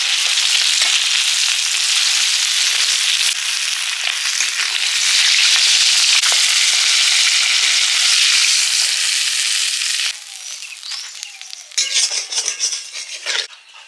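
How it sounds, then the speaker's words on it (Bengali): Small gang chuno river fish frying in oil in a pan, a loud, steady sizzle that fills the scene before dropping to a quieter, crackling spatter near the end. "এই যে গাংচুনা বড় বড় এগুলো ভেজে নেব"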